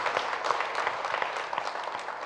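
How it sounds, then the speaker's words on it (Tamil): A congregation claps hands in praise during a church adoration service: dense, continuous crowd clapping at moderate volume with no pause. "கைத்தட்டி ஆண்டவரை மகிமைப்படுத்துவோம்."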